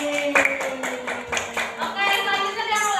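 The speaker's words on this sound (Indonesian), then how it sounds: "tepuk tangan buat Ardan dulu udah berani ke depan" A fourth-grade classroom claps for a student, brief scattered applause rising and thinning over a few seconds beneath a teacher's voice that runs through it.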